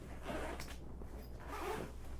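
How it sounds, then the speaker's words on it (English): Zipper on a soft rental violin case being pulled open in two quiet, close strokes separated by a short pause. "you want to open up these zippers all the way and take out this fiddle"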